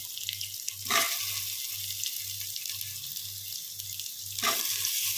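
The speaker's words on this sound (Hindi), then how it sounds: "आलू को हल्का सा भून लेंगे" Finely chopped potatoes fry with golden-browned onions in a pan over high flame, giving a steady broadband sizzle with a low rhythmic hum beneath and two brief louder bursts as the food is stirred.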